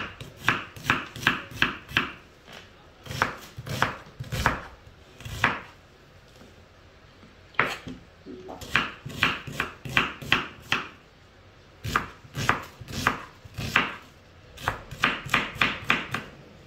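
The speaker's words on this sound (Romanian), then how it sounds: "am tocat ceapa tot" An onion is chopped with a knife on a board in quick bursts of sharp, close taps, with short pauses between runs of rapid strokes and no talking.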